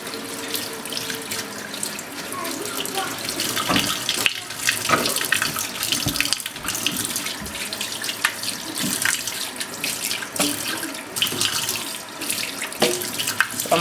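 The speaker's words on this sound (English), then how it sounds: "very quickly, I'm just going to rinse them out." Tap water runs steadily into a sink as freshly harvested vegetables are rinsed by hand, a close, continuous splashing stream with small irregular bursts and no talking.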